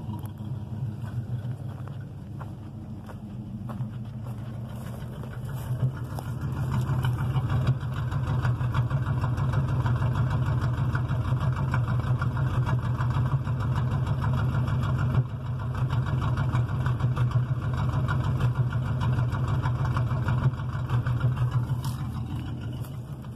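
A 1973 Dodge Titan motorhome engine idles steadily with a low rumbling drone and faint knocking, close and continuous throughout, rising slightly in level after the first few seconds.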